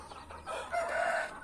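A backyard rooster crows once in a drawn-out call, fairly close and moderately loud, over faint farmyard ambience with no talking.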